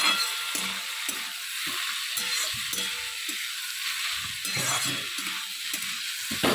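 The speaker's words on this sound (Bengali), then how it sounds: "এখানে দেখো আলু ভাজা বসিয়ে দিয়েছি" Sliced potatoes frying in a pan in a home kitchen give a steady, close hiss and sizzle, with occasional soft clinks and scrapes of stirring.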